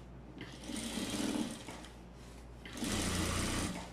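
A sewing machine runs along a trouser seam in two sustained bursts of fast, buzzing stitching, close and steady, separated by a brief slower stretch.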